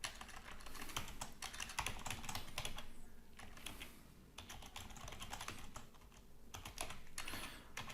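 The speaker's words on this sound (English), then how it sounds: "this new keyboard, I can't type." Fast, continuous clatter of keys on a new computer keyboard, close and fairly quiet, with bursts of rapid keystrokes and brief pauses between them.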